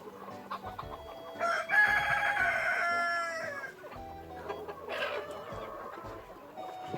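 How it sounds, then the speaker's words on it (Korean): A rooster on a forest poultry farm gives a loud drawn-out crow, followed by softer clucks and scattered clucking from other fowl nearby, with no talk. "수탉이 또, 또 다른 수탉이 왔어."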